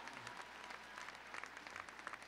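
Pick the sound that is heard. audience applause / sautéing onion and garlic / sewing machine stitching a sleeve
audience applause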